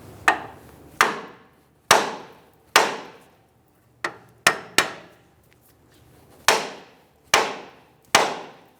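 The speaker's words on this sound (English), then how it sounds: "We're going to hit this area with the hammer to relieve the tension on the stud." Sharp metallic hammer blows struck against the rear knuckle of a 2007-2017 Ford Expedition to free the upper control arm stud, about ten separate hits at irregular intervals, close and ringing briefly, with no talking.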